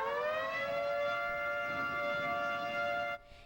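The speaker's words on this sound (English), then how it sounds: "It's the sound you hear when severe weather strikes your town." An outdoor severe weather warning siren wails in a long, steady rising tone with strong harmonics, loud and sustained for about three seconds before cutting off abruptly.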